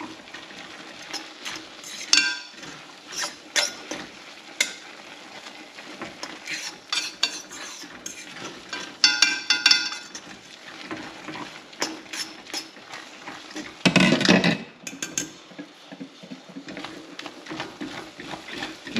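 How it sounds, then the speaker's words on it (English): A utensil stirs grits in a pan, giving irregular scraping and clinking strokes against the metal, with faint sizzling underneath and a louder burst of scraping near the end. "Then we're gonna stir it all up."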